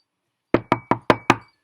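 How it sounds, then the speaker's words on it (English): Five sharp, evenly spaced knocks on a door sound close and loud after a short silence, with no talking. "He knocked on the door"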